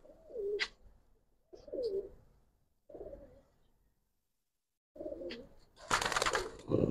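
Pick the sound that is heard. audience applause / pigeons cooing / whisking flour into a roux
pigeons cooing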